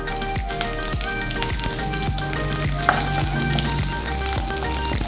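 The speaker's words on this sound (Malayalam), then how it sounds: "കുറച്ച് കറിവേപ്പില ഇട്ട് കൊടുക്കാം" Curry leaves hit hot ghee in a pan after mustard seeds for a Kerala bengal gram curry, giving a loud, steady, crackling sizzle with sharp pops throughout and no talking.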